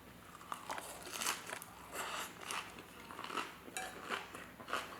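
Someone eats a tofu kimchi salad up close, with steady crunchy bites and chewing plus light cutlery clinks against a dish, repeating rhythmically and quietly with no talk.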